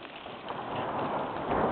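Steady rain pours down on an outdoor picnic in Gerede, Turkey, a dense, even hiss that swells slightly in strength, with no voices.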